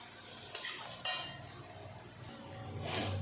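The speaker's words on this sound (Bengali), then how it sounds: "এখন নেড়েচেড়ে ভালো করে সিদ্ধ করে নেব।" Onion, carrot and shredded cabbage with salt being stirred in a frying pan, a steady close sizzle with two sharp utensil scrapes early on and a swelling hiss near the end, no talking.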